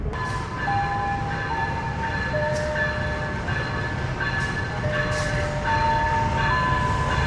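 An Ambarawa Express passenger train being shunted at Semarang Poncol station gives a steady, loud rolling rumble with squealing wheel and brake tones throughout, and no voices.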